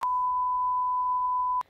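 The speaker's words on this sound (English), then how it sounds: "Shut up, you stupid smoke alarm!" A smoke alarm gives one loud, steady, high-pitched electronic beep lasting about a second and a half, then cuts off abruptly.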